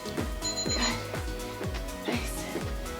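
A workout interval timer on an at-home bodyweight cardio session goes off early with a quick run of short, high electronic beeps over steady background music.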